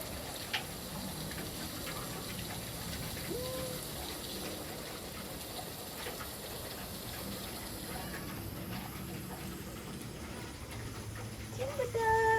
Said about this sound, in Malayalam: നല്ല മഴ മഴ കണ്ടോണ്ടിരിക്കുക